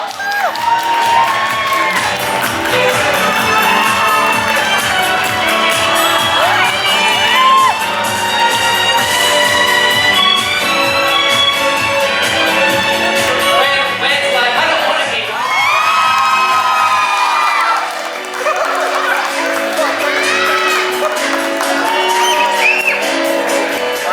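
Wedding guests cheer, whoop and clap loudly for the bridal party of bridesmaids and groomsmen, a sustained excited roar with high shrieks that briefly dips midway before surging again.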